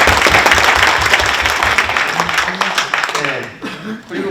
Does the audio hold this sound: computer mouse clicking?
no